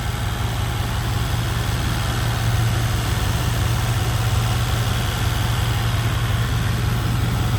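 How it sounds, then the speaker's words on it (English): A 1994 GMC Sierra 1500 4x4 pickup with a throttle-body engine idles steadily and close by, a smooth, even low rumble with constant loudness and no voices. "Really smooth sounding engine."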